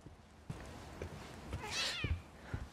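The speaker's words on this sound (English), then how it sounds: "It's a kitty cat." A cat meows once in the horror game The Medium, a single soft rising-and-falling cry heard close, amid quiet footsteps and light thuds, with no talking.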